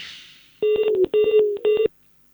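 Telephone keypad dialing before a call: three loud bursts of rapid DTMF beeps, each a string of short tones, heard alone after a brief hiss.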